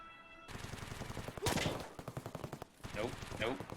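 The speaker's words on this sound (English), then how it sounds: "They are shooting at me" Gunfire in the shooter Escape From Tarkov comes as sharp rattling bursts and single cracks, loud and close, with a voice talking between and over the shots.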